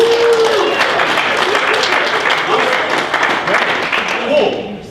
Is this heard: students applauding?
yes